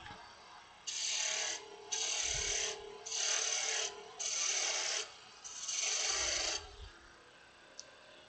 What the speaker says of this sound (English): Grabbing my smaller roughing out gouge here to finish this off.